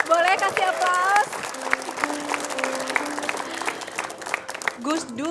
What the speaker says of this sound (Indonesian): Boleh kasih aplaus.